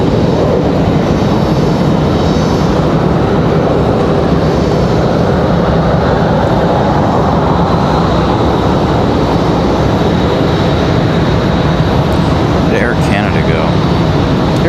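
An Icelandair Boeing 737 MAX 9 jet from Reykjavik at Raleigh-Durham International gives off a loud, sustained engine roar that holds steady throughout, with faint voices and brief chirps briefly rising above it near the end.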